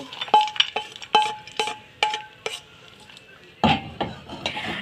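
A metal utensil clinks sharply against a pan and bowl several times in quick separate strikes while fried raisins are moved into a bowl, with a scraping stir near the end.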